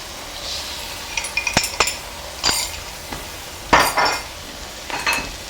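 Metal utensil scraping and clinking against a pan while stirring sauce into browned beef for beef and broccoli, a few sharp separate clinks and scrapes at close range, no talking.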